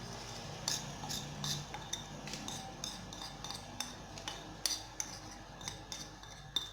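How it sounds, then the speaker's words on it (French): Indian spice blend stirred with a little water in a small pot, a spoon making light, quick clinks and scrapes against the metal in an irregular rhythm, close and quiet. "Je vais mélanger toutes mes épices."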